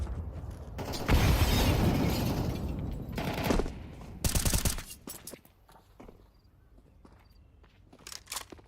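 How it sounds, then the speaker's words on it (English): Wild gunfire in a competitive online shooter match, shots sent through a smoke screen; dense, loud bursts of rapid fire in the first half, then quieter scattered shots and movement sounds toward the end. "Some more wild shots in through the smoke."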